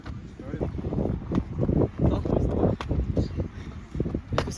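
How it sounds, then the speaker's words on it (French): Strong wind buffets the microphone at an outdoor running track during a 1500 m race, a continuous low rumbling roar with gusty swells throughout. "Il y a beaucoup de vent."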